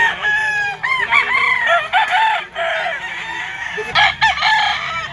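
Roosters crow repeatedly among caged gamefowl at a busy market, one yellow-legged bird close by, with overlapping calls and clucks in a continuous rooster chorus.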